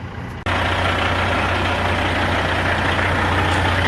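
A Kenworth truck engine idles to build air pressure, a loud, steady, low rumbling drone that starts abruptly after a brief quieter moment and continues evenly with no talking.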